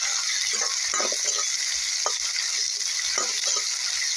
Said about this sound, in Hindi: इस प्याज के साथ टमाटर को भी हम भून लेंगे